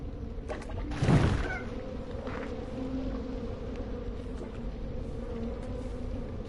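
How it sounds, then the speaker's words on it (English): A steady bee-like buzzing drones in Slime Rancher 2, a continuous hum with a brief louder swell near the start and no talk over it. "Sounds like a bunch of bees, doesn't it?"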